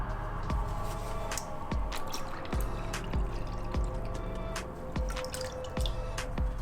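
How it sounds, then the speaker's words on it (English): Old green coolant dripping from the reservoir of an R1 motorcycle, with steady single drops falling at an even rhythm of about one every half second, close and clear over a low background hum. "we just want to dump out this old coolant, because as you can see, there's still some green coolant left in there"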